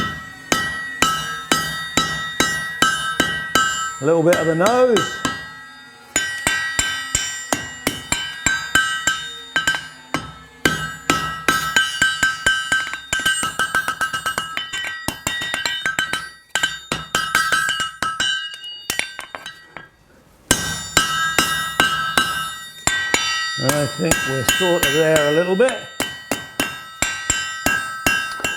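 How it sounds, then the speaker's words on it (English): Repeated ringing hammer blows on hot steel, an old horseshoe being forged into a bottle opener, in a steady rhythm, bright and close, with short pauses between runs of strikes and a brief spoken remark. "I use the round of the hammer here."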